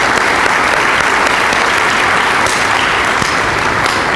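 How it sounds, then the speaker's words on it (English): Loud, sustained applause fills a Jesuit high school convocation, a dense unbroken roar of clapping from a large audience with no pauses. "I think that they deserve a round of applause."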